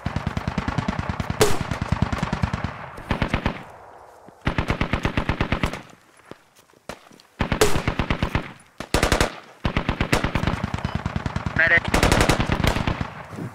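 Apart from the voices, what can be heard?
gunfire in the Squad video game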